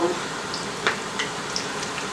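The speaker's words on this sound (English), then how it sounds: "I hate standing there frying tortillas" Steady crackling sizzle of tortillas frying in hot oil, continuous and fairly close, with a few brief clinks and faint background murmur.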